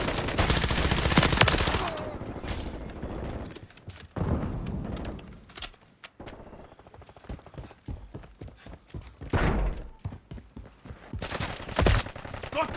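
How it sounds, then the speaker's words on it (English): Rapid bursts of gunfire in a Call of Duty Modern Warfare 3 multiplayer match, sharp crackling volleys that come and go, loud at moments and more distant at others, mixed with footsteps and game effects. "Oh, someone's shooting that way."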